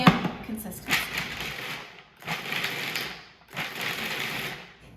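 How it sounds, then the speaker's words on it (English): A food processor grinds ingredients for Dedos de Aman pastry to a medium consistency, running in three pulsing bursts with short gaps, close and steady. "And now we're going to grind it just to about a medium consistency."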